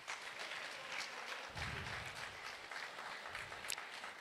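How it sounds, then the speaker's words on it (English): Audience applause at an economic symposium in Sunyani fills the room as a steady, dense wash of clapping that swells slightly midway and continues throughout. "Another round of applause for him."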